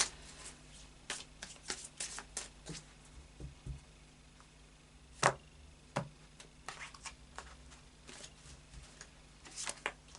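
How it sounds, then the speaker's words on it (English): Oracle cards being shuffled by hand in a quiet room, a series of soft, close riffling bursts at irregular intervals with brief pauses between them. "Okay, I need to do another few shuffles."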